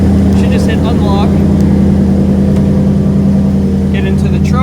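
The engine of a 2015 truck fitted with a Start-X remote starter runs loud and steady with a constant low drone, while people talk faintly over it.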